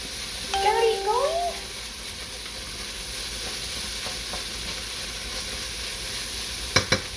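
Tofu fries in a pan with pork for an egg roll bowl, a low, steady sizzle heard at a moderate distance, with a brief high vocal sound early on and a couple of sharp clicks near the end.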